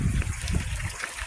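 Rainwater pours and trickles into a drain on a rainy mountain outing, a steady close wash of gushing water with a low churning rumble underneath.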